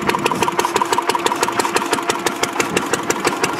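An old engine with a big flywheel runs at a museum heritage day, a steady close chugging with even, rapid beats and no talk.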